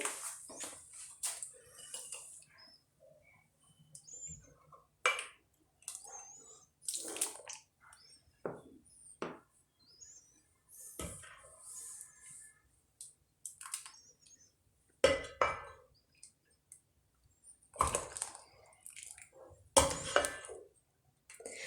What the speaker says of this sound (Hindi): तो व्यूअर्स सूप को अभी डिश आउट करते हैं